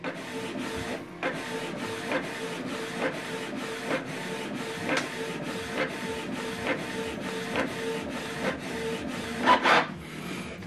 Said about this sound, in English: So it tends to take a bit of time when you are printing color